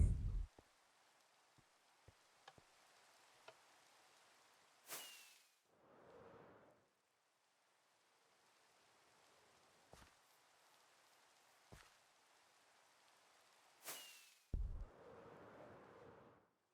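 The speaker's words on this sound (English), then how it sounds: "Rain, rain, rain." Rain falling in The Citadel, a faint steady patter with occasional sharp drops and clicks, interrupted by a few louder whooshing bursts.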